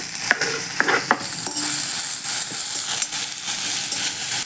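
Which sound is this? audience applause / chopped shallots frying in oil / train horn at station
chopped shallots frying in oil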